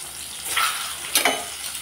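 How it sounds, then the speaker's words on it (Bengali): Eggs coated in salt and turmeric fry lightly in mustard oil, a soft sizzle with two brief louder spits or splashes over a quiet background. "হালকা করে ভেজে নিলাম"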